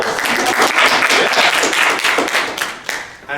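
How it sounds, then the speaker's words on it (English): A panel audience claps for Dark Natasha at an anthropomorphic comics publishing panel, with loud, close, dense applause that swells and then tapers off near the end. "Round of fucking applause"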